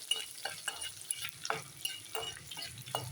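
Chopped ginger and garlic fry in a pan with a soft, steady sizzle, broken by a spoon stirring and scraping at a regular pace.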